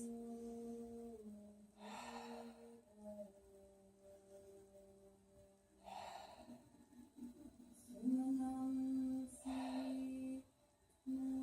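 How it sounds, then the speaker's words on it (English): Three slow, deep breaths taken during a yoga session for colds and head congestion, each a soft breathy rush of air spaced a few seconds apart over quiet sustained background music. "3 deep breaths."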